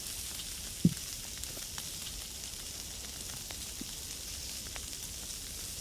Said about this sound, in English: Nothing sounds as good as sizzling meat.